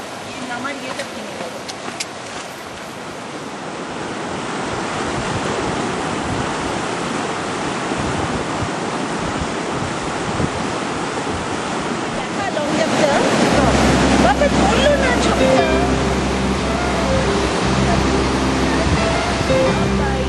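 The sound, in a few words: mountain river flowing in Kinnaur valley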